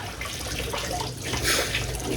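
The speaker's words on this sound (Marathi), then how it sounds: "मच्छी मी वॉश करतोय." Running tap water splashes steadily over fish being rinsed in a sink, a continuous close watery hiss with slight surges and no voices.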